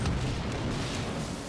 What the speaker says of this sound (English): Everything is blown up.